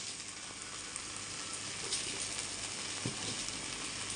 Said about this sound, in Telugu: ఒక్క నిమిషం వేయించాలన్నమాట